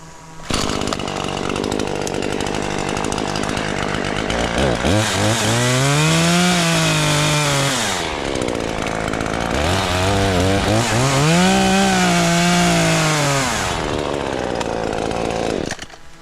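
A chainsaw makes a handheld step cut on a branch during a rope-and-harness tree climbing assessment. It runs loud and steady the whole time, its engine pitch rising and bogging twice as the chain bites into the wood.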